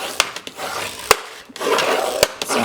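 Creasing reinforced score lines on a binder cover made from recycled materials: a steady scraping rub with a few sharp clicks and taps, close by with no voices.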